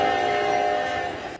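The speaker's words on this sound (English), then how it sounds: "Trains continued along this busy rail corridor in East Palestine, Ohio, as Transportation Secretary Pete Buttigieg" A train on a busy rail corridor in East Palestine, Ohio, sounds a loud, sustained horn over the rumble of passing cars; the blast holds steady for over a second, then cuts off abruptly.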